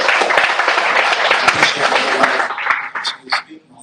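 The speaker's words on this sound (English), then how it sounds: "Round of applause," Audience applause at a music royalties panel event in DC, dense clapping mixed with scattered chatter and chuckles throughout, thinning out near the end.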